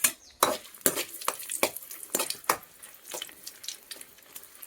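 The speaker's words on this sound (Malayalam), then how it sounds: "എണ്ണ ചൂടായി വരുമ്പോൾ ഇതിലേക്ക് ആദ്യം വറ്റൽമുളക് ഇട്ട് കൊടുക്കാം" Dried red chillies fry in hot coconut oil for a chutney, giving a light sizzle broken by a run of sharp, irregular scrapes and clinks as a utensil stirs the pan close by.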